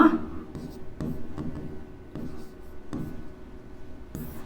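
Chalk or marker writing on a classroom board during a Hindi-medium English grammar lesson, a series of short scratchy strokes in an irregular rhythm with quiet room noise between.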